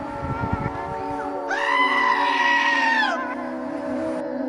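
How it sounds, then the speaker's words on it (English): A goat lets out one long, loud, human-like scream lasting over a second, nasal and wavering, after some lower background noise. "Number 4, goat screams."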